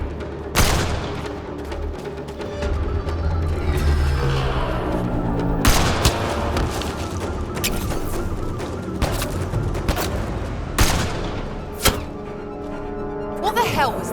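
Video game gunfire in Mass Effect: Andromeda, with several sharp shots and booms cutting through a dense battle soundscape of rumbling and clatter, while voices talk in between.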